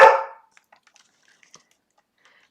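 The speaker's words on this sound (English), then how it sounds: "I apologize for beforehand that Levi is barking today a lot." A single sharp bark from a border collie sounds at the very start, followed by near silence with a few faint clicks.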